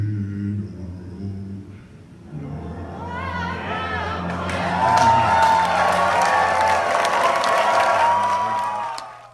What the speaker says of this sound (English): the audience started clapping